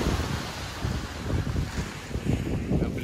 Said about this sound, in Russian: А нахожусь я на пляже Жемчужина.